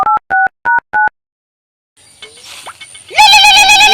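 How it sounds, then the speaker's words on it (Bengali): A phone call's ringing tone, four short evenly spaced electronic beeps close up, then a pause and a burst of louder warbling tone and noise. "আমি ফোন মারি।"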